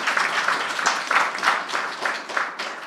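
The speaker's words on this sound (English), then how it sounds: "give a warm hand of applause" Audience at a panel discussion on Belarus giving a warm round of applause for two panelists, dense continuous clapping from many hands in a hall, fairly loud and steady throughout.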